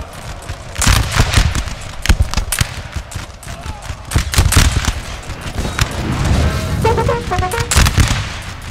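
Musket volleys and scattered gunfire in a Napoleon Total War battle, with repeated sharp cracks and rolling bursts of shots over a constant din of combat that runs throughout, no talk.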